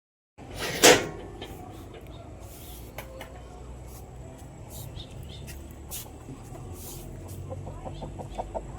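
A sharp wooden bang of a coop door opening in the evening, then chickens clucking softly nearby in scattered bursts, growing busier toward the end.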